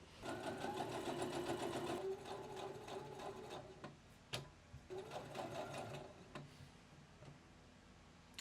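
A sewing machine stitching a narrow double-turned hem on light blouse fabric, quiet rapid rhythmic ticking that runs, slows and stops in short bursts, close by.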